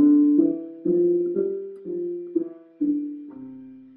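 Single piano notes step from C up to G and back down as a left-hand five-finger exercise. There are nine even, moderately loud keystrokes, each ringing briefly before the next.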